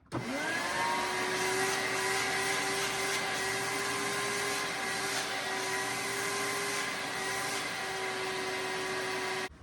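A 1983 Hoover Spirit Model S3295 vacuum cleaner runs continuously, its motor a loud, steady whine with a constant hum that stays level from start to finish, heard alone with no voices.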